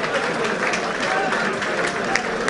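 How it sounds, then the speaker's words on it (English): A crowd at an amateur boxing show between Western Counties and The Army applauds at the end of a bout, a continuous hiss of clapping with a commentator's voice over it. "Applause too."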